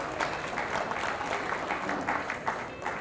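A trade show crowd gives sustained applause, a steady wash of many hands clapping at moderate loudness that continues evenly for the full three seconds without speech over it.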